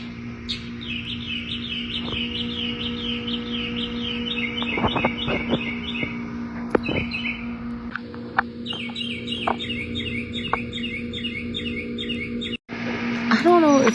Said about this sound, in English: One of the birds you can hear is a mockingbird.